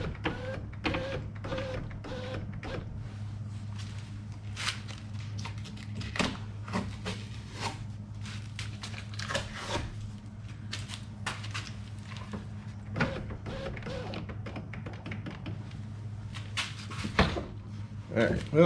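A damaged window regulator in a Jeep ZJ whirs and clicks as it raises the window, a steady mechanical grind with sharp clacks, while someone talks over it.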